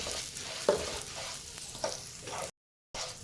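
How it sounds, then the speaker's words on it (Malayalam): Curry leaves fry in hot oil for cabbage thoran, a close steady crackle and sizzle with a few stirring scrapes, cutting off abruptly into a moment of silence before the frying resumes. "കുറച്ച് കറിവേപ്പില, ഇത് രണ്ടും നല്ല രീതിയിലൊന്ന് മൂത്ത് വരണം."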